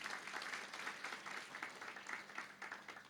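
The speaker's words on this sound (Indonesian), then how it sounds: "Tepuk tangan buat anak ini." Congregation at a church service in Indonesia clapping for a young man, a steady wash of many hands at moderate distance, fairly even and sustained without any voices over it.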